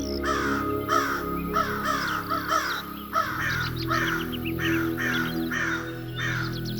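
Crows caw repeatedly in a steady run of harsh, loud calls, close by and overlapping, over a constant low hum.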